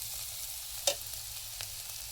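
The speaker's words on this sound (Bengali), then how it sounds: "এখন উচ্ছে রান্না হচ্ছে, উচ্ছে।" Potato and bitter gourd fry in a pan while being stirred, giving a soft steady sizzle with one sharp utensil clink and a fainter scrape later; no one speaks.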